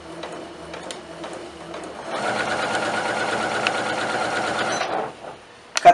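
Janome Skyline S7 sewing machine stitching through layers of fabric, a rapid steady whirring burst of about three seconds after some quieter handling sounds, close and clear, no voices.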